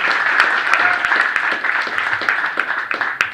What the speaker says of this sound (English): Let's give a round of applause to our senior, Mr. Nate Nixon.